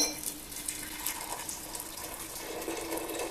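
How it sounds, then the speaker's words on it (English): Hot water is poured into a vase as a steady, gentle splashing fill, fairly quiet and continuous, with no talking. "let's jump straight to it by adding the hot water"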